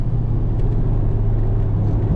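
A Volkswagen MK8 Golf R with all-wheel drive on a race track gives a steady, loud engine drone and road rumble, close and continuous with no talking.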